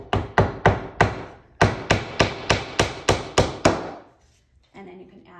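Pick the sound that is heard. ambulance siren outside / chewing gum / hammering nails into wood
hammering nails into wood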